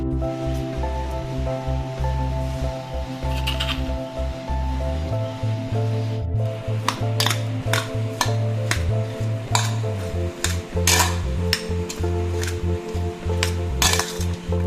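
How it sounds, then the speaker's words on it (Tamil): Ground mustard and fenugreek being stirred into chopped mango pickle in a metal bowl, a spoon clinking and scraping repeatedly against the metal under a steady low background hum, with no talking. "கடுகு வெந்தயமும் நல்லா பொடி பண்ணியாச்சு இப்போ இதையும் நம்ம மாங்காயில் சேர்த்துக்கலாம்"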